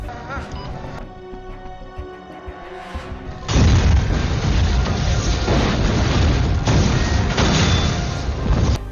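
A bomb blast from the film The Punisher (2004) erupts after a few seconds of quieter scene sound, then a loud sustained roar of explosion and debris rumbles on to the end.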